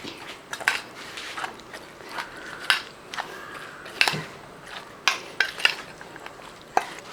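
Yogurt salad stirred with a pinch of salt in a bowl: soft wet mixing with irregular spoon clinks and taps against the dish, close and moderately quiet, with no voices.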